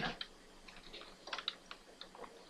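Light, scattered keystrokes tap on a computer keyboard, quiet and close, as a command is typed in for a Minecraft turtle.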